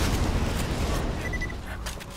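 Loud, dense shotgun blasts and booming gunfire from the video game Borderlands 2, filling the first second and then fading into quieter game noise.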